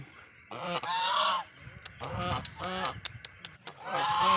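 Loud, nasal honking calls from a pair of ducks come in repeated bursts, close by, with short pauses between them, in the Sundarbans.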